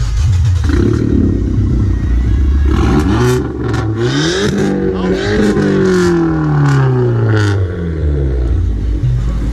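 A Chevrolet Camaro fitted with a Lamborghini exhaust revs loudly up close at a car sound show, its engine climbing and falling through several sweeping rises with a deep, continuous rumble.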